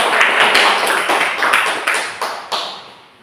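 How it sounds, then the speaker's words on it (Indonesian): A small group of participants gives a round of applause for a presenting team in a classroom, crisp close hand claps that start brisk and dense, then thin out and fade toward the end. "kita beri aplaus untuk kelompok 1"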